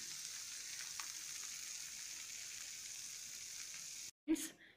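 Rava dosa batter sizzles in oil on a hot pan, a soft steady frying hiss that runs evenly, then breaks off with a brief clatter at the end.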